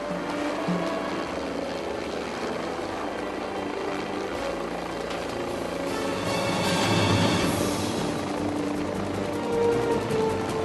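A helicopter carrying concrete to a high-altitude worksite fills the scene with steady rotor thump and engine drone, swelling a little louder partway through as it seems to pass closer.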